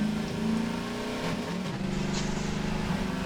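A car engine revs and hums steadily, its pitch rising and dipping, with a synthetic, game-like quality and no voices.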